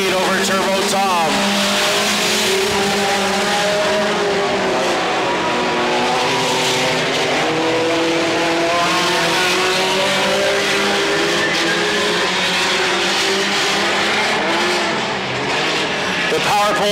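Mini Stock Pinto race cars circle Petaluma Speedway in a steady, loud engine drone with revving pitch shifts, while an announcer talks over the racing throughout.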